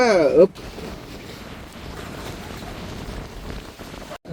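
Storm wind buffets the microphone with a steady low roar in a coastal harbour where a boat service has been halted, after a brief tonal burst at the start and a short dropout near the end.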